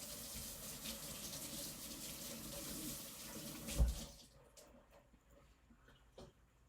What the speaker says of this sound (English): I'm going to wash the knife.